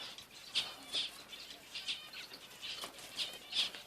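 A bearded reedling in a reedbed at Borth gives a series of short, high chirps in a loose rhythm, about one every half second, moderately close over soft background noise. No voices.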